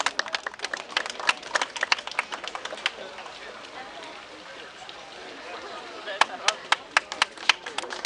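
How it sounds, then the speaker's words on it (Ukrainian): Scattered clapping from a small crowd at an outdoor fair for a child, sharp separate claps that thin out in the middle and return in a brief burst near the end. "Привітайте його оплесками."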